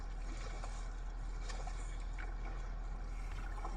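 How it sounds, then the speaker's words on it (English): Kayak paddling through red-tinted river water near an industrial shoreline, with steady soft splashing and trickling strokes close by, alone with no talk. "I'm paddling currently through red water"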